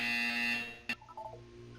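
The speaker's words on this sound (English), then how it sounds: "You will hear a buzzer." A harsh electronic buzzer from Portal 2 sounds in a steady loud tone for just under a second, then cuts off with a short click and faint tail.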